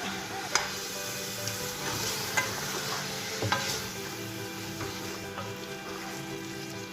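Blended onions being stirred into a couscous preparation in a pot, a soft sizzle under a low hum with a few distinct spoon knocks and scrapes against the pot; no voices.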